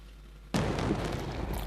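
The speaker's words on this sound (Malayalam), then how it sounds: "സാമ്പിൾ വെടിക്കെട്ട് അവിസ്മരണീയമായി" After a quiet hum, sample fireworks at Thrissur Pooram festival, 2016, go off with a sudden loud boom that rolls into a sustained crackling roar.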